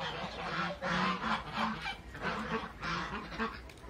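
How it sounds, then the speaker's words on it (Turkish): Muscovy ducks in a backyard flock give loud, repeated honking calls in uneven bursts, close to the listener. "Amerikan ördekleri."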